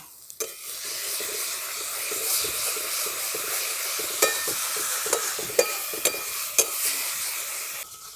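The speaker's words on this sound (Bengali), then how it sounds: "এর সঙ্গে দিয়ে দিচ্ছি পাঁচটা কাঁচা লঙ্কা" Green chillies go into a frying masala for a winter duck curry and get stirred in, a steady close sizzle and hiss running throughout with a few sharp spoon scrapes and knocks against the pan.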